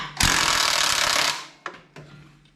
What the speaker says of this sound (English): I think I'll just unbolt the side panel over here for the dash.